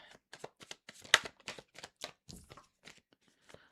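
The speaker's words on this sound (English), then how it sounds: "So let's kind of go over this while I shuffle the cards." Tarot cards being shuffled by hand, a series of soft, crisp riffling and tapping bursts in an irregular rhythm, close and fairly quiet, with no talking over them.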